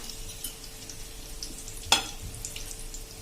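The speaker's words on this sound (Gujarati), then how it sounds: "એમાં આપણે આ ડાઈસ કરેલા જે કટિંગ કર્યા છે ને ડાઈસ ફોર્મમાં, એ કાંદા આપણે સેજ હલકા એવા સાંતળી લેશું" Diced onions sauté lightly in oil for a home-style okra dish, a soft continuous sizzle with one brief sharp scrape of stirring in the middle, quiet and close.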